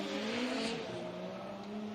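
A 4-cylinder turbocharged Formula Drift car with a BorgWarner turbo screams steadily at a New Jersey drift event, with a sustained high engine note and a rough, tire-smoke hiss layered over it.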